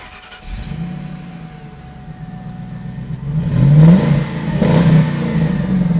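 A Ford Mustang fitted with Roush side pipes cranks and fires up, settling into a loud, deep idle and then revving twice in strong throaty swells, close and alone.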